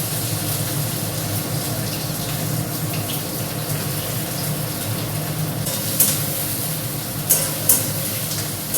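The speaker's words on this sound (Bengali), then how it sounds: "তো পেপার চিকেনে একটু বেশি করে পেঁয়াজটা দিতে হবে। তো এই যে পেঁয়াজ দিয়ে নিচ্ছি।" Onions frying in a pan for pepper chicken, a dense continuous sizzle close by, with a few brief clinks of a utensil toward the end.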